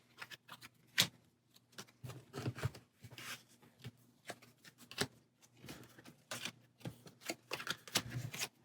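Cards from the Star Wars: Outer Rim board game being shuffled into a market deck: a run of soft, quick riffling bursts and taps in close, quiet bursts, with no one talking.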